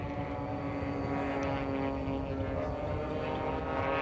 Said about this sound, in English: This is a Race Pro Engineering aircraft,